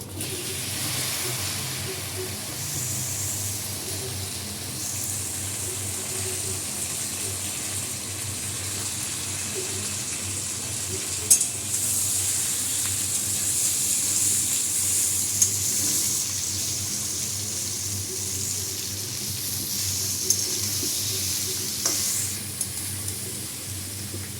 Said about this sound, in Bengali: এখন এখানে পাঁচফোড়ন দেবো, ফুলগুলো ভালো করে ভেজে নেবো।